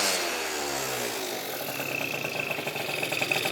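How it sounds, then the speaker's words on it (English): A rebuilt Yamaha Zuma 70cc scooter with a Polini kit idles close by, a steady buzzing two-stroke drone that turns slightly rougher and more uneven toward the end. "So now this thing's sounding real good."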